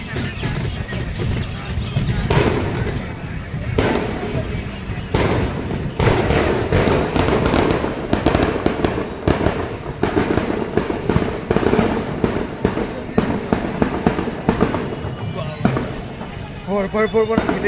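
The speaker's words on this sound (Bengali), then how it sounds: "কালী ঠাকুরের বিসর্জন উপলক্ষে বাজি পোড়ানো হচ্ছে একটা ফাঁকা মাঠে" Fireworks set off in an open field outside Amodpur station for a Kali idol immersion, a dense, continuous barrage of loud bangs and crackles with thumps throughout, voices mixed in among the blasts.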